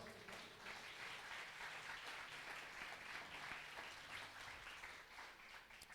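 A church congregation claps and applauds during a Sunday service, a steady, dense round of clapping that holds at an even level throughout, somewhat distant and reverberant.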